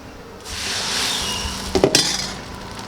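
Peanut butter pasta egg appam batter hits a pan on high heat and sets off a sudden, sustained hiss. A few sharp metallic clanks of a utensil follow near the end.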